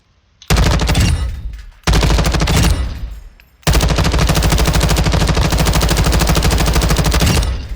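M4 rifle bursts in Modern Warfare 2, three loud bursts of rapid automatic fire, two short and one long and sustained, each shot cracking in a fast even rhythm.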